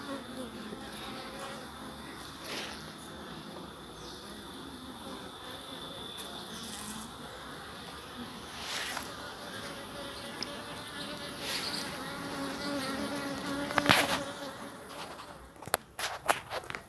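Honeybees at an opened top-bar beehive during a cross-comb repair, a continuous soft buzzing hum with a few nearer passes, some handling knocks and clicks toward the end.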